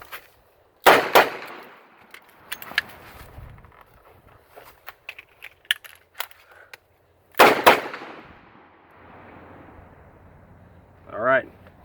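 Two loud revolver shots ring out close together at the start, followed by clicks and rattles of a speed reload using a Safariland Comp 2 speedloader. Then two more sharp shots follow, and a short voice comes at the end.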